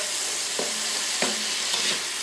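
Mushrooms sweating in a frying pan, a constant hiss of sizzling moisture broken by three soft scraping stirs at steady intervals.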